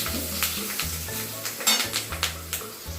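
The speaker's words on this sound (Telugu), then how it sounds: "పోపులు, పచ్చిమిర్చి, పచ్చికరేపాకు వేసుకున్నాను" Green chilies and curry leaves fry with mustard-seed tempering in hot oil for pulihora, a close crackling sizzle broken by repeated spoon stirs and scrapes against the pan, with a low background hum.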